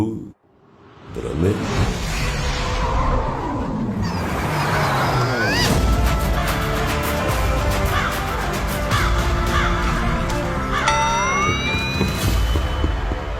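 A crow caws several times in harsh, rising calls over a loud, busy background noise.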